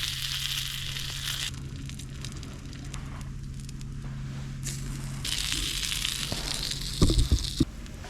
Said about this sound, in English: Got some pork jowl bacon left over from my last trip. Gonna let that cook right there.